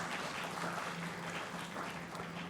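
Dense, continuous applause from a conference crowd at an industry video event opening, a steady broad roar of many hands clapping with no individual claps standing out and a faint low hum beneath.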